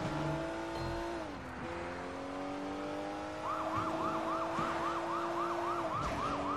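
A police car siren in the video game Sleeping Dogs wails steadily, then switches to a fast, repeating yelp over a constant car engine drone, loud and close with no talk.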